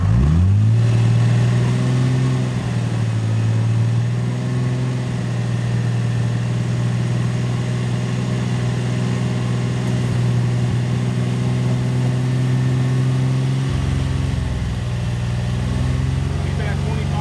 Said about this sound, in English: go ahead and rev it out to 1200.